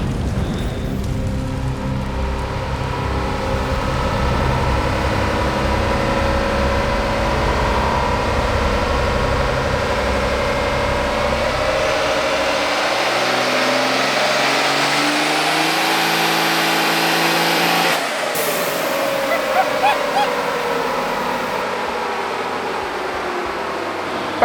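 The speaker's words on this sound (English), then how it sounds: "It's dyno time." A 5G Cummins diesel engine with a 106mm compound turbo kit runs on a dyno, roaring loudly as it climbs steadily in pitch through a long pull before cutting back near the end.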